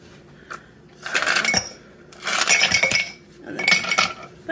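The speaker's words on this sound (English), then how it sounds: "And you're gonna get a scoop of ice." Ice cubes scooped into a glass, three bursts of clinking and rattling with short pauses between them, close and bright, no speech.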